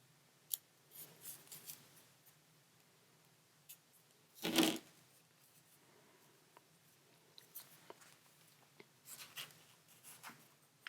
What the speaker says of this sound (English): Just going to cut a little banner notch in the base here.